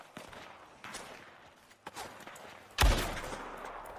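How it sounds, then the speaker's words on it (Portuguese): Gunfire in a multiplayer shooter game: several scattered distant shots, then a loud close blast near the end followed by a ringing tail, with game ambience throughout. "Ay, tiros."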